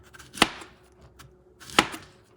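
A kitchen knife chops through green plantains, cutting them into small inch-long cylinders on a board: two sharp, distinct cuts about a second and a half apart, close and clear against a quiet background.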